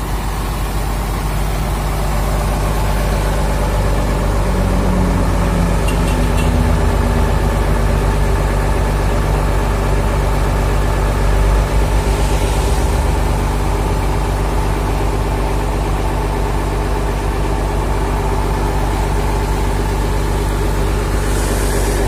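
Diesel locomotive, an ALS 234 unit, idling steadily with a deep continuous low rumble and hum, loud and constant throughout with no talk.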